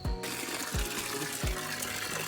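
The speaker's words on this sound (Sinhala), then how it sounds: "ඉතින් ගයිස් දැන් මේ පීල්ලට නාන්න යන ගමන්" Steady rushing water pours continuously from a bathing spout at night, a broad splashing gush with a few dull low thumps recurring roughly every second underneath.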